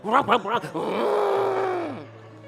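A preacher voices an exaggerated imitation of snoring, a few rough grunting bursts followed by a long, drawn-out groaning exhale, loud and close.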